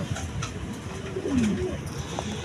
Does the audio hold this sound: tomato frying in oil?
no